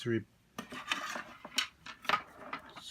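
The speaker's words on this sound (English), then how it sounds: "we're gonna have to remove these 4 screws" Screws come out of a MacBook Pro laptop during an upgrade, making small, close metallic clicks, taps and light scraping in an irregular sequence.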